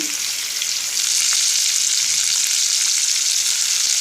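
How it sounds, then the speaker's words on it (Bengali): Dried fish frying in oil in a pan, a loud, steady hissing sizzle that swells after the first second and stays dense and even to the end. "মাছটা এবার আমি ভাজবো"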